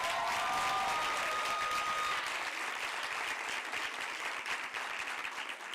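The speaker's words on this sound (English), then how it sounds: "Please, a big round of applause for Ms." Audience applause at a Women in Media and Communications event, a dense, sustained wash of many hands clapping at moderate distance, steady throughout and fading slightly toward the end, no voices over it.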